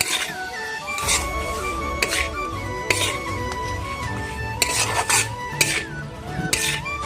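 Rhythmic rasping scrapes of banana pickle being stirred in a bowl with coriander repeat every second or so, close and steady over background music.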